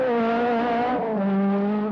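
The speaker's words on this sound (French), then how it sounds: "voici au volant de cette Saxo Kit-Car" Citroën Saxo Kit-Car rally car engine holding a high, buzzing, even note while cornering, heard from inside the car, with a brief pitch dip partway through as the revs shift.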